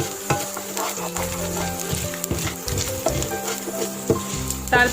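Rice and popped mustard seeds frying in hot oil in a pan, a steady bright sizzle with scraping stirring strokes and occasional sharp crackles and pops, close and continuous, no voices.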